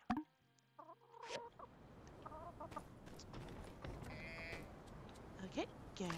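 Hens clucking and squawking in the farming game My Time at Sandrock, several short bursts scattered over a quiet background, with a buzzing tone and a person talking at times.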